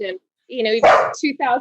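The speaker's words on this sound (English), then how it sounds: "Barking on cue." A pet dog barks and yips in short bursts close to the microphone, mixed with a person talking over it indoors during a podcast conversation.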